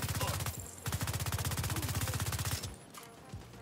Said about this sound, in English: Shooting me from all the way over there, bro?